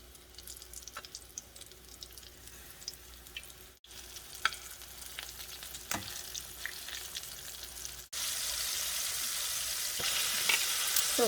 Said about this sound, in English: I'm going to start frying my wings